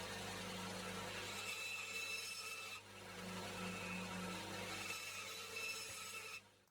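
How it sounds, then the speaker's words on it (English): A bandsaw cutting wood pen blanks hums steadily with a thin whine, while rasping cutting noise rises and falls as the blade passes through the wood. The sound is fairly quiet, with no voices. "I then cut them on the bandsaw."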